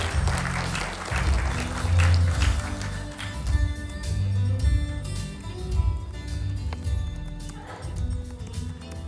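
An audience applauds steadily to welcome a council member onstage at a local creator event in Jeju, the clapping dense, continuous and fairly loud with no talking.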